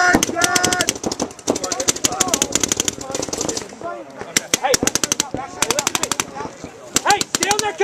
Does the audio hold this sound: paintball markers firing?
yes